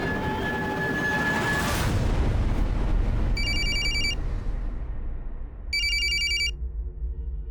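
Two short bursts of an electronic telephone ring cut in over loud traffic-like rumble, a first burst and then a second one after a pause, with no talking.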